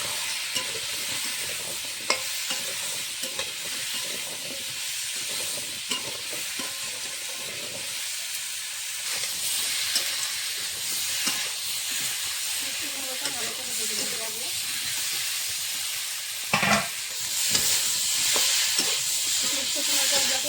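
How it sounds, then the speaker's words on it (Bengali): Pumpkin and small shrimp frying in a pan with salt and turmeric, a continuous hissing sizzle with repeated spatula stirs and scrapes, a sharper burst near the end. "স্বাদ মতো নুন হলুদ গুঁড়ো ভেজে নেব"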